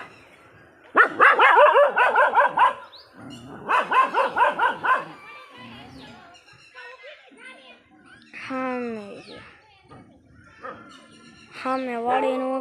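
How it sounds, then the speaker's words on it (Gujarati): A farm dog barks in a rapid, loud run of barks, then a second burst, followed by children's voices and calls, heard close outdoors. "સામે જો કૂતરું છે."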